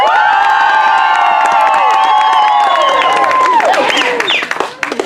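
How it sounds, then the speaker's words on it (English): A crowd at a Shakespeare Macbeth performance erupts in loud cheering, shouts and whoops over clapping, a dense roar that thins and fades toward the end. "you need to go and say, hoot, holla, clap, cheer, stomp your feet, whistle"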